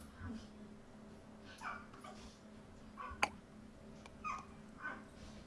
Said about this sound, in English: I hear a puppy.